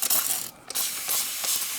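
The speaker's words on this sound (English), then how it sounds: "What you're going to want to be doing next is spray them with water" A spray bottle mists water onto moth cocoons in a series of close, loud hissing pumps, each one broken by a short pause.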